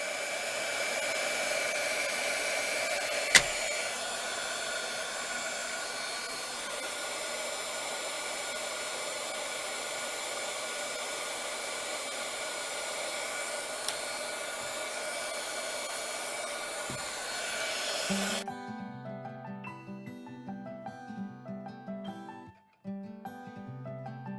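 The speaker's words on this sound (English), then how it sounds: "Here I am using the heat gun to dry up the liquid acrylic that I have diluted in." A heat gun blows over diluted liquid acrylic paint in a mixed-media artwork with a steady, close, even roar for about eighteen seconds, then cuts off and leaves quieter tonal sounds.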